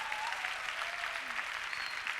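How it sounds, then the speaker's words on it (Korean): Steady applause from a church congregation, a dense even patter of many hands clapping, moderately distant and continuous. "puede dar un aplauso al Señor."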